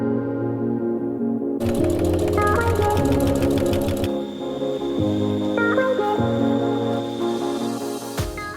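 Sewing machine stitching down a French seam in fabric, a close, loud motor whirr with rapid needle clatter that runs in bursts, changing speed and pausing briefly between runs.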